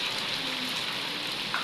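Heavy rain pours down in a village, a dense, even wash of hissing drops that stays constant and fairly loud from start to finish, with no voices.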